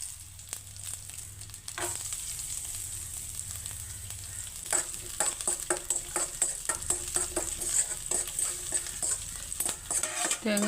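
Coconut pieces frying in ghee in a pan, a steady close sizzle with frequent quick scrapes and clinks of a spoon stirring against the metal, continuing throughout without speech.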